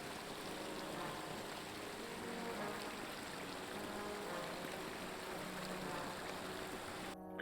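Continuous waterfall roar from The Lord of the Rings Online, a dense even hiss of cascading water with faint melodic music woven in, steady and unbroken until a brief cut at the end.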